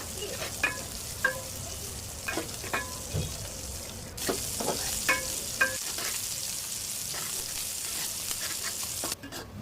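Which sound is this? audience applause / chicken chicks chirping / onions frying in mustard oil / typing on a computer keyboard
onions frying in mustard oil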